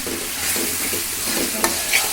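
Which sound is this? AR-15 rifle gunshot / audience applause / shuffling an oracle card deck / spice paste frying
spice paste frying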